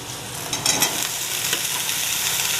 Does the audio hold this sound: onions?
yes